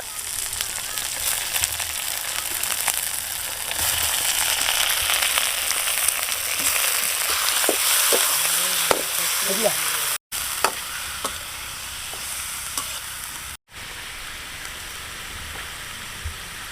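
Pork curry meat fries in hot oil with crushed garlic, giving a steady dense sizzle with scattered stirring clicks and scrapes. Brief quiet dropouts break the sound.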